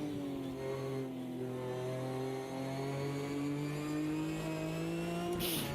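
A Mercedes race car engine in a racing video game holds a steady loud drone with rising harmonics as it accelerates through the gears, ending in a brief shift or cut.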